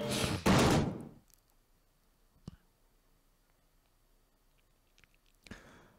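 A door is forced open in a PSP horror game: a loud burst of impact noise at the start, then a quiet stretch broken by a few faint knocks and thuds.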